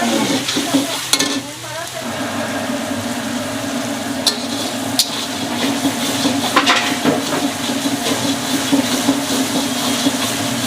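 Onion, tomato and curry leaves roast in hot oil for an Andhra-style goat head masala, a continuous loud sizzle and hiss with repeated scraping and stirring clatter, a few sharp metallic knocks, and no speech.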